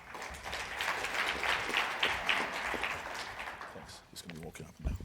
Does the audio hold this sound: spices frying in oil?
no